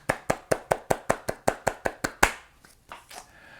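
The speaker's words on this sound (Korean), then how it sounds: "여러분들이 상호 형제님 함께 박수로 축복할까요?" Church youth congregation clapping in welcome at a Saturday worship service, a dozen loud, evenly spaced claps in a steady rhythm that stop abruptly, followed by faint scattered room sounds.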